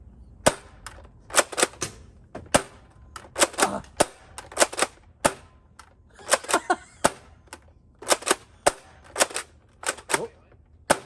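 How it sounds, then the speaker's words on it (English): Nerf Rival Helix blaster firing foam balls, a string of sharp, loud snapping shots in quick clusters of two or three, with brief gaps between bursts and a short murmur of voices. "We're going to try out the Helix, curving some shots up and down and all around."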